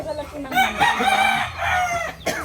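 A rooster crows in a long, strained call that rises and falls, with a second shorter crow near the end, heard over background noise.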